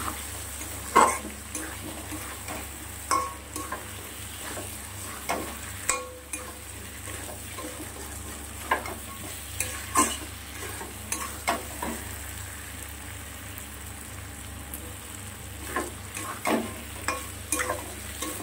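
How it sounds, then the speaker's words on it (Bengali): Egg curry masala with chili powder and turmeric is sautéed in a pan, with a low steady sizzle broken by repeated scraping and stirring strokes at an unhurried pace, close and alone. "এখন একটু বাকি আছে, আরও একটু কষানো হবে।"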